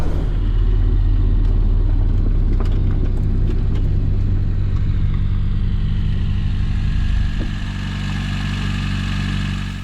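A close, loud Lada Riva engine rumbles steadily, then revs up and settles back into a rough idle.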